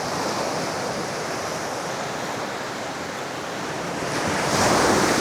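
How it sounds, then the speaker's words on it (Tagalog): Ocean surf crashes strongly on a beach at a seaside resort, a constant loud roaring wash with wind noise that swells toward the end. "Masyado malakas yung alon."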